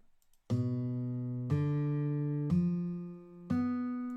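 Four separate guitar notes ring out one after another, about a second apart, each sustaining and overlapping to outline a tense, dissonant diminished chord arpeggio.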